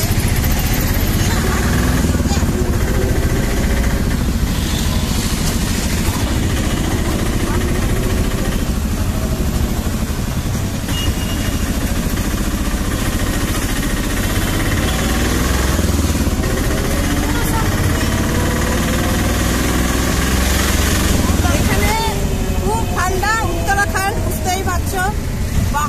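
An auto rickshaw's small engine drones steadily through a cold hill ride from the station, with constant road rumble and people talking over it throughout.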